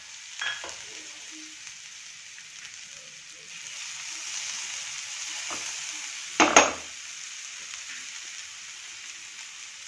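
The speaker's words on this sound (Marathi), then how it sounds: "याच्यामध्ये जे आपण वाटण तयार करून घेतलं होतं ते घालणार आहोत।" Cumin and a ground spice paste fry in hot oil in a pan for a matar kachori filling, giving a steady sizzle with light stirring and a louder crackling burst partway through.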